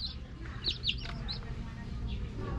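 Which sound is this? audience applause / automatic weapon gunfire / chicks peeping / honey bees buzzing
chicks peeping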